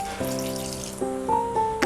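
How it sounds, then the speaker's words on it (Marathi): Chilli water pours into a mixer grinder jar in short bursts, its ringing pitch rising as the jar fills, close and clear with no talking. "आता आपण यात थोडंसं पाणी टाकूया मिक्सरच्या भांड्यात हे मिरचीचं पाणी आहे ते थोडंसं यात टाकते"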